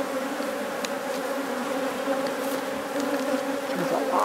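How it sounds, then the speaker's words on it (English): Honeybees buzz thickly around a wooden hive box outdoors in a steady, close, droning hum that continues unbroken with no talking. "There's a lot of bees in that box."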